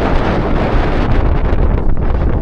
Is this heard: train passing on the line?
no